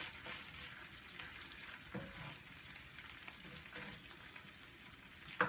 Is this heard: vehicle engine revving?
no